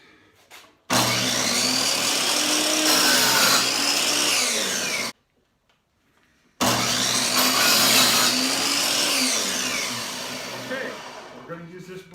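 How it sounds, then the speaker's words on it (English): A miter saw makes miter cuts through a pre-measured 46-inch board for a Christmas decoration, two loud sustained whining cuts separated by a brief silence, each spinning up and winding down. "We're going to use my miter saw with miter cuts."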